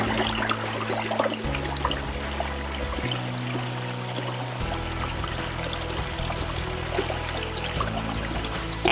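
Secluded woodland creek flowing steadily, a continuous close burble and trickle of water with a low mechanical hum underneath, no voices.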